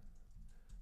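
Soft, quick keystrokes on a computer keyboard, a brief, faint patter of light taps with no voices.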